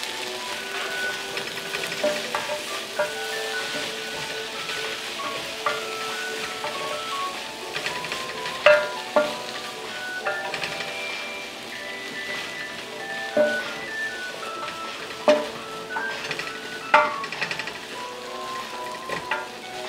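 Peppers and dried chili frying in a pot for Hungarian beef pot roast, a steady close sizzle with scattered crackles and pops throughout, no talk.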